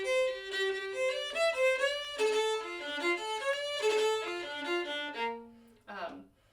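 Irish fiddle phrase with treble bowing ornaments, quick bursts of repeated notes on the bow's upper half, played solo and close, rhythmic and lively over about six seconds before fading.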